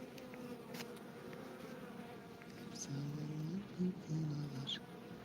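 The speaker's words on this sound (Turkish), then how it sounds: "Parmağımın ucunda bir arı var." A bee buzzes close by on a fingertip, its hum rising and wavering in short bursts over quiet outdoor background noise.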